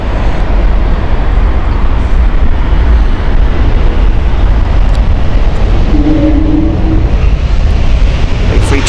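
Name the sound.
JetBlue Airbus A321neo jet aircraft at Heathrow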